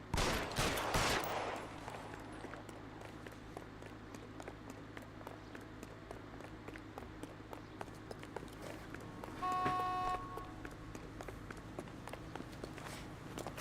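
A flurry of sharp, loud gunshots from LA Noire ring out at the start. Softer rapid tapping of running footsteps follows over a steady low hum, with a brief tonal burst near the end.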